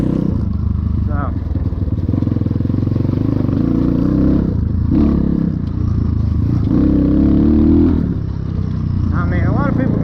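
An Apollo 250rx dirt bike engine drones and revs on a trail ride, loud and steady with brief throttle dips, close to the rider, with some clattering and a voice briefly heard.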